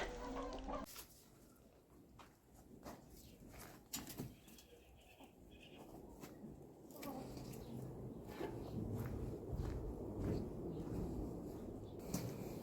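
A rooster clucks and calls amid outdoor farmyard noise, with scattered rustling and bumps throughout; no speech.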